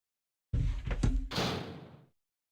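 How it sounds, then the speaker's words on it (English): A loud knock or thump at a door during a Resident Evil 2 live stream on New Year's, a heavy impact followed by a rattling, scraping door noise fading over a second and a half, with no speech. "I thought I just heard a knock"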